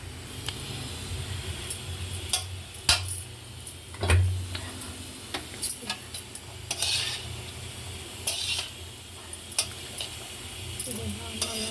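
Carrot pieces frying in oil with onion masala, a continuous sizzle broken by frequent sharp taps and scrapes of a spoon stirring against the pan.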